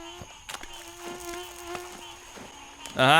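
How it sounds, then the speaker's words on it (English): A mosquito buzzing in the survival video game The Last Plague: Blight, a thin whining drone heard throughout with faint game sounds beneath, swelling into a loud close buzz right at the end. "I wonder how long it took the developers to record this fucking annoying sound of a mosquito."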